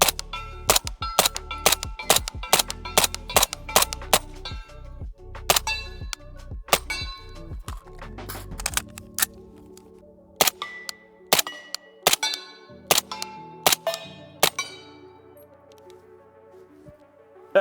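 Suppressed 300 Blackout SIG Sauer Rattler LT with 5.5-inch barrel and SIG HEXIUM suppressor firing 220-grain subsonic target rounds: a long string of sharp, close shots, first rapid and evenly spaced, then slower with metallic ringing between them.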